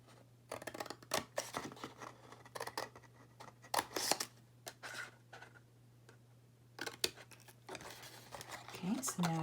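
Scissors cutting patterned paper for a handmade card, a run of quiet close-up snips and crisp paper rustles in irregular bursts, with a low steady hum beneath.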